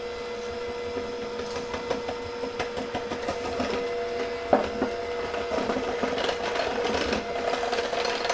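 Electric hand mixer whirring as it blends Jell-O pudding for a marble pie, a steady buzzing drone with small bumps and knocks against the bowl throughout.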